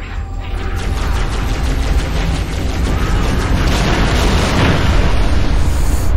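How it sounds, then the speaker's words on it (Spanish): Continuous rumbling explosions and rapid bursts layer into a dense, loud barrage of Halo: Reach game booms with mechanical clatter. "son muchas explosiones allá arriba"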